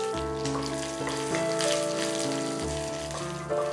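Curry leaves and asafoetida sizzling in hot oil for a ripe mango curry tempering, with a loud, steady crackle and spatter close by and no talking.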